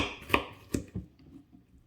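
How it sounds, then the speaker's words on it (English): Ginger being chopped into small pieces with a knife on a board while making laing, a few quiet, separate chops spaced unevenly, close by with no talk. "and then try to chop it like in small pieces"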